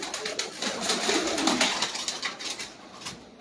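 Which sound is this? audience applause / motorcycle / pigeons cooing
pigeons cooing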